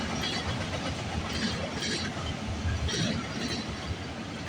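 A freight train made up of auto rack cars rolls past at night, a steady low rumble and rattle of wheels with soft periodic clacks, heard from a moderate distance with no talking.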